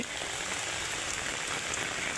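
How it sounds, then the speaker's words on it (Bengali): Heavy rain falling outdoors in an open wetland field, a dense continuous hiss of drops hitting surfaces, loud and close, filling the whole moment without a pause. "কারণ হচ্ছে অনেকটাই বৃষ্টি।"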